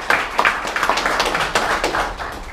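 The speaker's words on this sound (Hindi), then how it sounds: "एक जोरदार तालियां होनी चाहिए।" An audience at a seminar in Mumbai claps in a short, uneven burst of close, sharp hand claps lasting a couple of seconds, with no talking over it.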